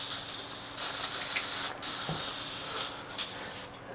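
An airbrush sprays in close, loud hissing bursts while being rinsed out, with short breaks between sprays and a final fading burst.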